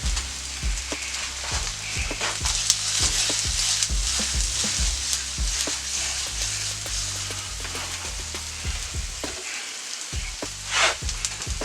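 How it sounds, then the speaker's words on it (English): Butter sizzling and frying on a hot steel griddle as marble rye bread toasts, a steady crackling hiss with scattered pops and a few metallic scrapes and knocks close by, with no voices. "Let me put down a little bit of butter here first."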